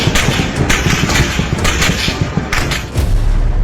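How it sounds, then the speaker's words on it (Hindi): Gunfire from Pakistani army troops, a dense, noisy barrage of booming shots and bursts that overlap into continuous loud cracking and rumbling, with no voices. "पाकिस्तानी फौज की अंधाधुंध फायरिंग"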